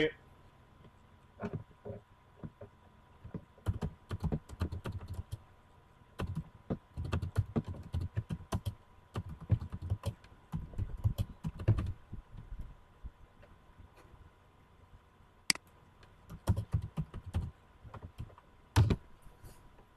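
Rapid keystrokes on a computer keyboard entering a search query, irregular bursts of close clicking clatter with short pauses, no talk over it.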